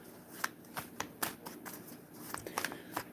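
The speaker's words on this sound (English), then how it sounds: "I am shuffling the cards." Tarot cards shuffled by hand nearby, a series of quiet, crisp riffling snaps at an irregular rhythm with soft pauses between them, no voices.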